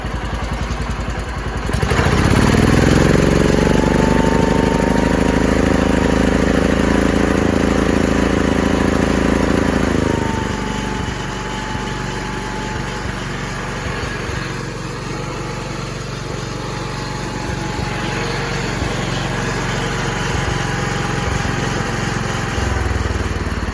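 An Allis Chalmers tractor engine revs up loud and steady at high idle for about eight seconds with a slight stumble, then drops back to a lower, rougher running note that carries on close by.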